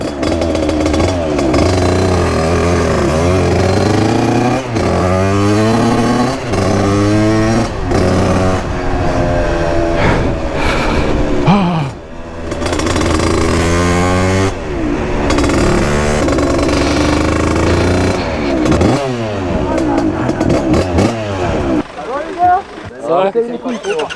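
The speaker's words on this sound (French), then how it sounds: "Attends, c'est la moto." A 50cc motorcycle engine runs steadily while riding on a cold trip from France to Germany, its buzzing drone shifting pitch with the throttle and loud throughout, with people talking over it.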